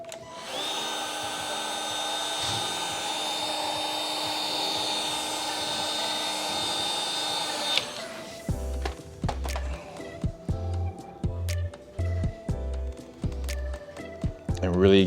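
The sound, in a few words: heat gun heating VW emblem overlay adhesive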